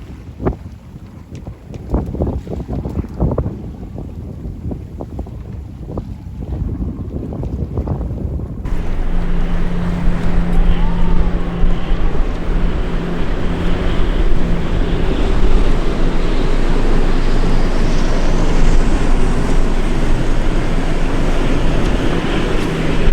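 Strong wind roars and buffets the microphone over rushing water and waves, a steady loud blast from a sailboat beating to windward in the UK, with no talking.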